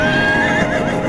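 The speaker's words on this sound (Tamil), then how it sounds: "தம்பி குதிரை." A horse gives a loud, close whinny, one sustained quavering neigh that fills the moment, with faint hoof clatter beneath.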